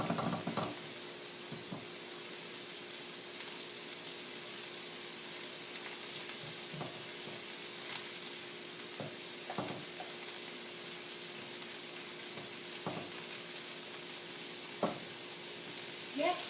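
Frozen vegetables sizzle in a hot wok for fried rice, a steady soft hiss with occasional light knocks of a utensil against the pan, fairly quiet and without talk.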